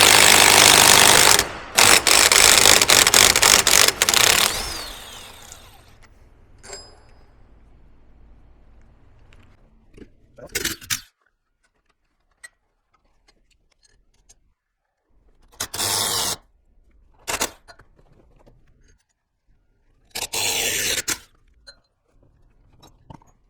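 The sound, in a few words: tightening ARP wheel studs into Nissan 350Z hub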